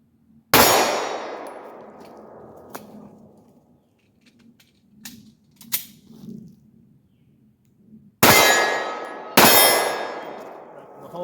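Three loud, sharp shots from one-handed pistol drill practice, one early and two close together near the end, each with a ringing decay, separated by quiet stretches with faint clinks and handling sounds.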